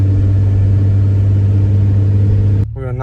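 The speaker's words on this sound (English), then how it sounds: "This thing also has a massive exhaust leak." A Honda CB750 motorcycle engine with a massive exhaust leak idles loudly and steadily up close with a deep hum, then abruptly cuts off, leaving only faint background sound.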